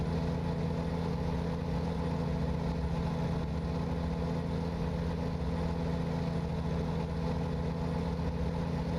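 A reworked Volvo truck engine from American Truck Simulator drones steadily, idling at a constant low rumble with no change in pitch.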